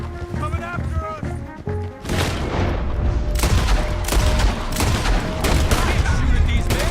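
Heavy gunfire in a Red Dead Redemption 2 shootout, a dense barrage of loud overlapping shots over continuous rumble, with shouting voices mixed in.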